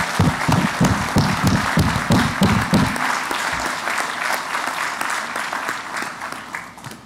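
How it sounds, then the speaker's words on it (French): Loud, sustained applause from a large crowd at the close of a CAF African football confederation debate, dense clapping throughout with some low thumps early on, gradually thinning toward the end. "Je vous demande tous de l'applaudir."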